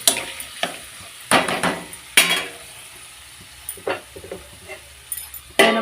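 Vegetable curry with tomatoes is stirred in a pan, a low simmering sizzle broken by several loud scraping strokes and clinks of a spoon against metal.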